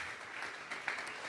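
A church congregation at a Sunday service claps together as an offering of praise, a dense, fairly quiet wash of steady applause with no talking.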